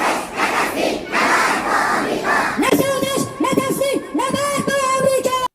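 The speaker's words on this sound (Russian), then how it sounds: "Ни покорности, ни капитуляции, война с Америкой, скандирует толпа." Large crowd in Tehran chanting anti-American slogans in loud rhythmic unison, the massed voices steady and then rising into pulsing repeated phrases.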